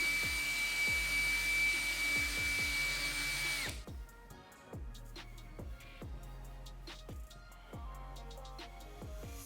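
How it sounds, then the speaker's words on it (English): A drill fitted with a small buffing wheel, buffing a vinyl wrap, whirs in repeated short bursts, first under a steady hiss and then more sharply in a rhythmic on-off pattern, close by. "I'm just gonna grab a tiny little buffing wheel on the drill, do a little area"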